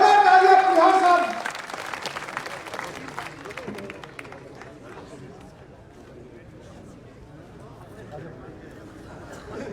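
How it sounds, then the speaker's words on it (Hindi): A crowd at a village political rally in Malkheda bursts into loud clapping that lasts about a second and a half, then drops away into a low murmur of voices and crowd noise. "जोरदार तालियां परिहार साहब"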